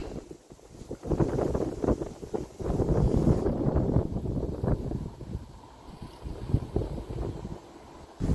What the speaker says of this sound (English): and possibly hear, the wind's getting up again